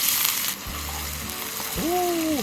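Green onions frying in oil for jjajangmyeon in a home kitchen give a steady sizzle throughout, with a brief tonal hum partway through and a whistling tone near the end.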